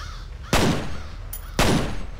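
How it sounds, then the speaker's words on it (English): A crow caws in the video game F.E.A.R. Its harsh calls are partly buried between two loud, sharp gunshots about a second apart. "I wanted to shoot the bird."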